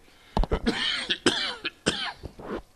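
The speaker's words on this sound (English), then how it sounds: "I'm sorry for this cough, which is chronic and perpetual." A man's chronic cough, several harsh, wet coughing bursts in quick succession with some throat clearing, loud and close in a quiet room.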